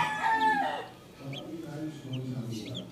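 Gamefowl hens and young chicks of mixed crosses such as gray, brown red and Kelso lines cluck and cheep close by, with a brief crow-like call at the start and soft scattered peeps afterward.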